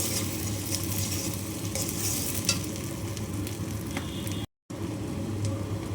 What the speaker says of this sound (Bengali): এখন তেজপাতা এলাচ দারচিনি সব কিছু একসাথে দিয়ে ভাজা হচ্ছে ভালো করে